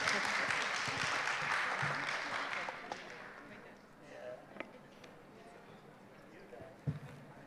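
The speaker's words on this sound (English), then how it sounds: "Let's clap for them." Audience applauding a robotics team at a national robotics championship in Uganda, loud clapping at first that fades away, followed by scattered claps and faint voices.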